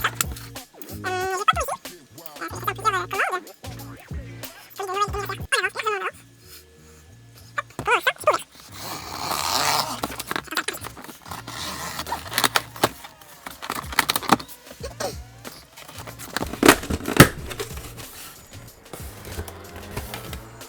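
Opening the packaging of a Novritsch airsoft replica: scattered rustling, rubbing and scraping of wrapping and box material, close and fairly quiet, in irregular bursts with brief pauses, and a voice speaking in places.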